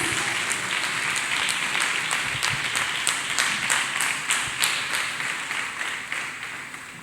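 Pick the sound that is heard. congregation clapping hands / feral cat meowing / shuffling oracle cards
congregation clapping hands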